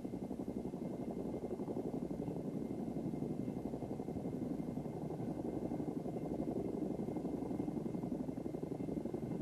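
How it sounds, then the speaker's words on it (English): Helicopter hovering in position for a hookup, a steady, loud rotor and engine drone that holds constant throughout with no pauses. "Now the helicopter is in position for the hookup."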